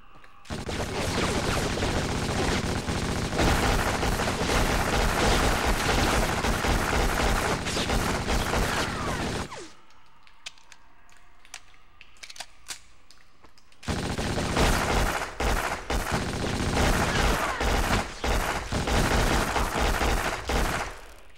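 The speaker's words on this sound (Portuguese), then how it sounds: "Vou dar um tiro normal." Dense, rapid bursts of gunfire in Black on PS2 dominate, stopping for a few seconds of quiet before the heavy shooting resumes.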